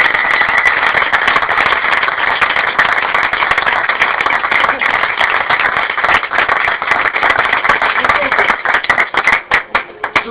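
Loud, dense applause from an audience at a themed mass celebrating Oscar Wilde and gay pride, with many hands clapping continuously for about ten seconds and the clapping thinning toward the end.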